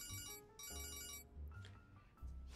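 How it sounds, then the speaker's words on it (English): A cell phone rings in Persona 5 Royal with a bright, repeating electronic ringtone in short bursts, loud and clear, with no talking over it. "What a weird cell phone ring."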